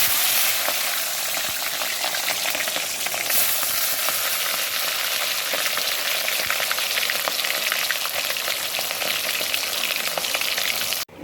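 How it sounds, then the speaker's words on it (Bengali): Fish fries in hot oil in a home kitchen, a loud, steady sizzle with crackling pops that runs unbroken the whole time with no talking. "এই যে মাছটা একটু আবার হালকা করে ভেজে নেব।"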